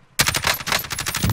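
Rapid automatic rifle fire in Warzone, a close, steady burst of shots rattling without pause.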